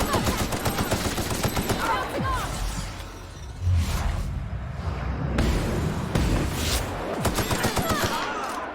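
Gunfire from The Outer Worlds bursts out in rapid volleys, then thins into scattered shots with a whooshing slow-motion stretch in the middle before the shooting picks back up; a voice speaks over it.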